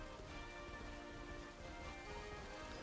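Steady rain falls in the Pokémon Scarlet video game world, a soft, even wash of drops with no break and no voices, fairly faint throughout.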